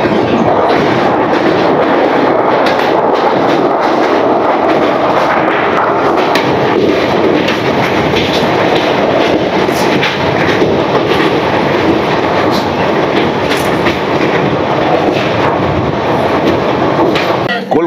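A train rumbles over the bridge across the Torsa river on the Kolkata to Dibrugarh route, a loud continuous roar with rhythmic clatter of wagons throughout, no voices.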